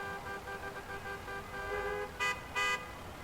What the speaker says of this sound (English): it's just people honking at each other because they're mad